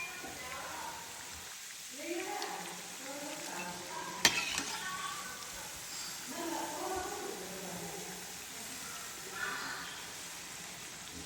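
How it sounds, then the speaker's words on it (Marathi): Chopped cabbage and vegetables for dry cabbage manchurian fry and are stirred in a pan, giving a soft, steady sizzle with occasional scraping clatter while someone talks over it. "असे मस्त लाल परतायचे किंवा तळायचे किंवा तुम्ही असे पण तळू शकता"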